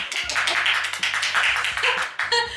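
Close, rapid clapping from a small group during a Carrefour cake tasting continues in a dense rhythm over a steady low hum, ending with a short sharper burst.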